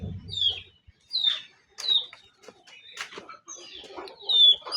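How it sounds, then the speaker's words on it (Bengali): Chickens on a farm near a greenhouse and pond cluck and squawk in repeated short, rising calls, several birds close by with brief pauses between bursts and no talking. "মুরগির ফার্ম"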